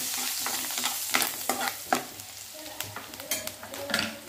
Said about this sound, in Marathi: लसण थोडंसं भाजून घेऊया।